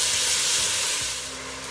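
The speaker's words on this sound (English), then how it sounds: "Just want to get the pork white on all sides." Pork searing in a Ninja Foodi gives a loud, steady hiss and sizzle that eases slightly toward the end, with no talking.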